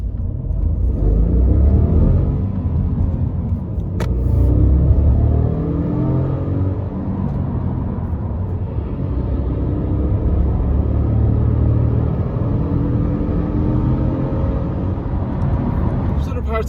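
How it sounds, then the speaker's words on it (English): A Honda Civic with a 1.0-litre VTEC Turbo engine on the road, a loud low rumble and engine drone heard from inside the cabin that rises and eases with acceleration over about seventeen seconds. "So let's start off by going for a drive in the car."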